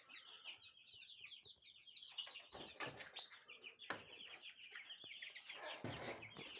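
Chickens and young chicks cluck and peep almost nonstop, a dense layer of overlapping calls with a few louder bursts of flock noise close by.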